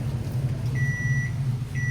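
A microwave oven sounds two short, thin electronic beeps, faint over a steady low hum in a home kitchen.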